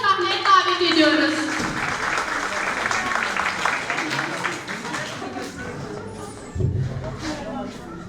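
Audience applause at a primary school kindergarten class Mother's Day show, a broad steady patter of clapping from a crowd that carries on for several seconds with voices mixed in.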